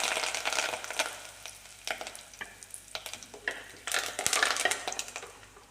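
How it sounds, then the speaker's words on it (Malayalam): Curry leaves crackle and sizzle in hot oil in a clay pot for a vegetable thoran, with a steady frying hiss broken by sharper pops and occasional stirring scrapes, close and fairly loud. "എണ്ണ ചൂടായി വരുമ്പോൾ രണ്ട് കറിവേപ്പിലും കൂടി ഒഴിച്ചു കൊടുക്കാം"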